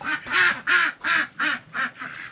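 Ducks being let out of their house quack loudly and close, about six honking quacks in a quick, steady run with no speech over them.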